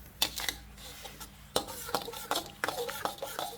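Mackerel curry paste is stir-fried in a pan with a splash of water, heard as a series of close metallic scrapes and clinks of a spatula against the pan, spaced unevenly, with no talk.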